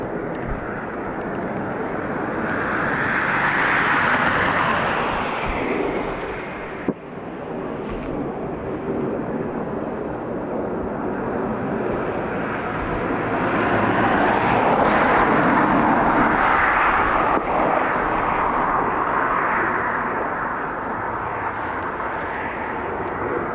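Airbus A330 at Dublin Airport, a sustained jet roar that swells, dips briefly around the middle, then builds again into a loud rumbling whine as the aircraft moves past at moderate distance.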